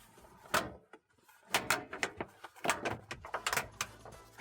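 A van door shuts with a firm thump as its magnetic catches snap closed, followed by a run of sharp clunks and rattles from the door and its fittings, close by at night in Port Augusta, South Australia.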